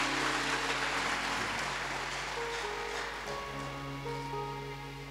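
A church congregation claps together to honor a man who has died, a dense, steady wash of applause that fills the clip and tapers slightly toward the end, with sustained tones lingering underneath.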